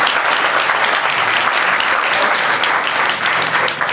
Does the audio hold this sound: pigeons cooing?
no